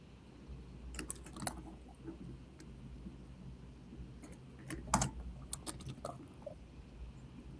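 Soft, uneven keystrokes tap on a laptop keyboard in short bursts, faint and close in an otherwise quiet room with no talking.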